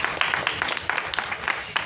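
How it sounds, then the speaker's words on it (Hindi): Brief applause from an audience at a Bharat Raksha Manch gathering in Delhi, a dense patter of clapping hands with a few sharper individual claps, short and moderately loud. "तालियां बजा दें, थोड़ा अच्छा लगेगा"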